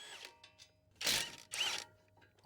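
A ratchet turns 18mm caliper bracket bolts on the front brakes of a 2013-2019 Ford Escape, giving two short, close bursts of rapid clicking with a brief pause between them.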